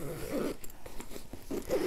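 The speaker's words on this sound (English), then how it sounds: "I'm also a huge fan of these like micro zippers." A micro zipper on a Travelpro Maxlite 5 backpack is pulled in short, scratchy bursts, a few quick close-up rasps separated by brief pauses.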